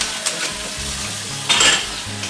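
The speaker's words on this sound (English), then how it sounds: "go ahead and rinse these two off together" Two dishes are rinsed together in a kitchen sink while an omelette is made, giving a steady wash of running water with a brief louder splash and clatter near the end.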